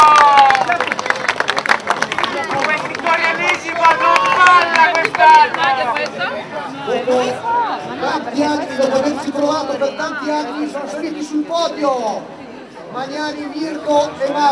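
Spectators at the Karatella race in 2012 clap and cheer for the father-and-son second-place finishers, a lively crowd under a loud announcer's voice and chatter.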